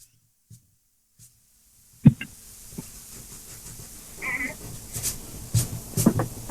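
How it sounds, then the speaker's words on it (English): Someone else's cat meows at night, heard over a phone line during a late-night radio phone-in. A few short, moderately loud meows come through amid faint background rustle and clicks. "This is somebody else's cat every night."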